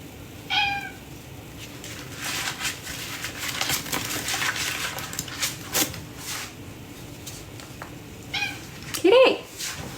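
A house cat meows twice, clear and fairly close, early and again near the end, with people talking softly in the background between the calls.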